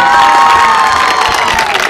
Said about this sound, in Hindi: तो एक दफ़ा भरपूर तालियों के साथ उन बच्चियों की हौसला अफजाई करें